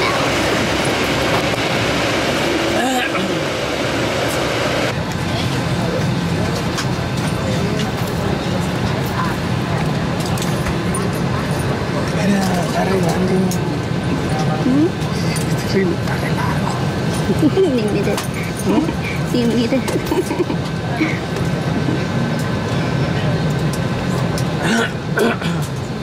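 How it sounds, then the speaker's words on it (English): Steady rumbling drone of the FlyAway airport bus from inside the cabin, with a continuous low roar, rattles and road noise throughout. "we're on the flyaway bus now"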